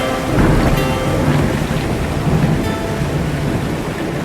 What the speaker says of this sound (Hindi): लीजिए महाराज, वर्षा आरंभ हो गई।